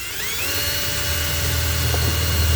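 A steady, loud whir of a cordless screwdriver with a hole saw grinding through plasterboard, continuous with no talking.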